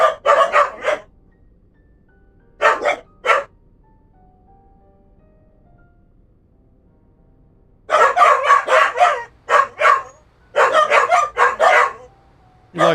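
A dog barks at someone at the door, loud and close, in repeated bursts of several sharp barks separated by pauses of quiet.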